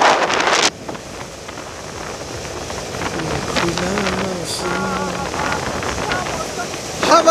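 Wind buffets the microphone during a scooter ride on a mountain road from Jammu toward Dharamkot, Himachal, starting with a loud rumbling gust, then a steadier rushing blow with some faint engine hum beneath.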